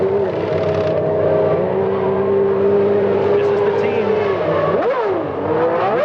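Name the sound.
Formula 1 car accelerating through gears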